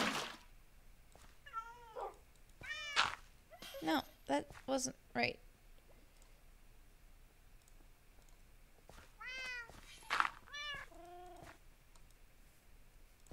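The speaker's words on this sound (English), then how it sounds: "The different kitties have different voices." Cartoonish cat meows in a cozy autumn-woods building video game, several short rising mews in two clusters with a few chirpy bird-like calls between, fairly quiet, and a voice speaking briefly.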